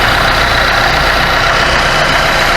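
A vehicle engine with a thermostat stuck open idles close up, a steady, even rumble with no speech.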